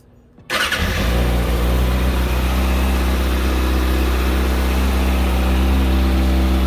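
Kawasaki ZX6R motorcycle engine fitted with a high-performance air filter fires up after a brief crank and settles into a loud, steady idle that holds evenly throughout.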